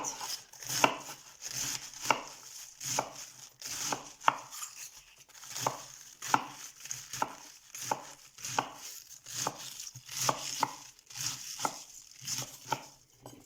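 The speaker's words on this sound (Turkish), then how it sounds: "bir tahta yardımıyla lahanamızı ince ince doğrayalım" Steady, rhythmic knife chops finely slicing cabbage on a wooden board, each crisp thud landing about every half second, close by with no talking.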